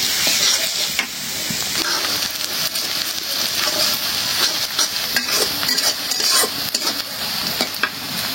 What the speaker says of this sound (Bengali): পেঁয়াজ মরিচ ভাইজে নিলাম